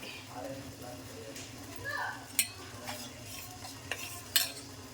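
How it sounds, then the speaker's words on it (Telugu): Ambali flour mixed with water being stirred in a pot, a soft scraping swirl with a few sharp clinks of a utensil against the metal rim, under faint background voices. "అంబలి పిండి అలా కలుపుకోవాలండి."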